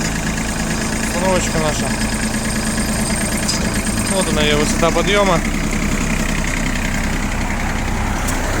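A Japanese ISEKI SIAL TF223F tractor, fitted with a front loader and a soil implement, idles while still cold in a steady close-up rumble. Someone talks over it and brief whining tones rise and fall mid-clip.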